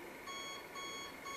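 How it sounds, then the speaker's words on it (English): An alarm clock beeps in a quick repeating electronic pattern, faint and thin with a steady background hum, with no one talking. "That was my alarm clock."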